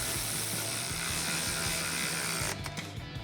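Rapid ratchet clicking as a 15mm socket tightens a shock bolt on a 2011-2014 Mustang, steady and close for most of the clip before the strokes break up near the end.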